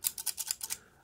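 Rapid snipping of worn scissors cutting through a vinyl car sticker, about six quick crisp cuts in a row, close by, then quiet.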